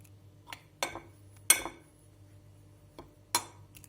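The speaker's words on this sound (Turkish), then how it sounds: "Son olarak baharatlarımı unlu karışımımın içine döküp tekrar karıştıracağım" A spoon stirs black pepper, salt and chili flakes into a flour mixture in a bowl for crispy chicken drumsticks, making a handful of sharp, separate clinks against the bowl in a quiet room.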